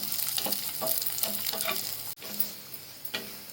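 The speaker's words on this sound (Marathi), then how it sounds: "लसूण असा लाल होईपर्यंत चांगलं तळून घ्यायचं" Garlic frying in oil for garlic chutney: a continuous bright sizzle with rhythmic stirring scrapes every half second or so, close up, briefly dipping as the pan is moved.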